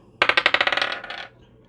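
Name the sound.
dice being rolled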